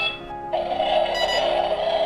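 A Modster 1:14 ready-to-run electric brushed metal RC excavator powers on with a steady, fairly loud electronic beeping tone that sustains after a brief quieter start.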